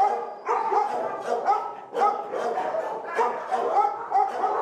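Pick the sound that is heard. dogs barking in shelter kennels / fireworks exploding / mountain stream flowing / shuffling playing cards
dogs barking in shelter kennels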